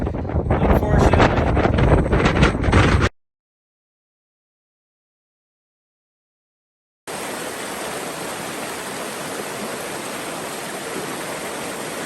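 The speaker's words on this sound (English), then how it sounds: "Wind gusts about 40 miles an hour." Strong, steady roaring wind gusting about 40 mph on a mountain summit buffets the microphone, cutting out for a few seconds of silence before the broadband rush returns just as loud.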